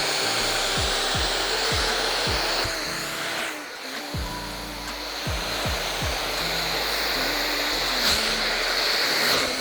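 An Atmos 2 hair dryer blows steadily while styling a Hollywood glam blow dry, a loud constant whooshing hum with a few soft knocks of a brush, dipping briefly midway as the airflow shifts.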